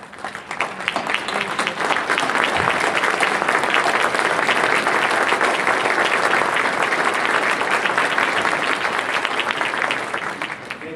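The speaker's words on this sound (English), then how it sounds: "if you would please stand so we can give our inductees a round of applause" An audience stands and claps for inductees at a Phi Theta Kappa induction ceremony, a full, sustained roar of applause that swells in over the first second and fades slightly at the end.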